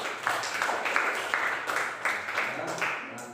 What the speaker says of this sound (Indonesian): tepuk tangan buat Nova